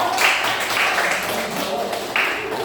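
Students in a class 11 Islamic education lesson applaud, giving a dense wash of clapping that swells and fades with a few louder bursts, continuing steadily.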